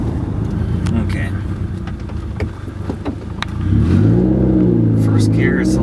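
Stage 2 modded Subaru WRX engine accelerating through gears, a low throaty drone climbing in pitch as revs rise, heard from inside the car with people talking over it.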